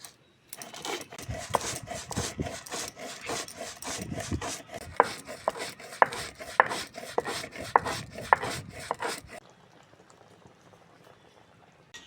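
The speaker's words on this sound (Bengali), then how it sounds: "এদিকে ভাজা মশলাটা গুঁড়ো করে নেবো" Fried spices are ground into powder for a Bengali raw hog plum pickle, a dense rough grinding rattle with sharp clicks throughout, stopping abruptly near the end and leaving faint background hiss.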